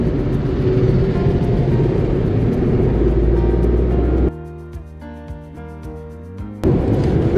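Tata Nexon 2020 compact SUV accelerating in sport mode, a loud steady engine and road rumble that briefly cuts out to softer tonal sounds before the roar returns.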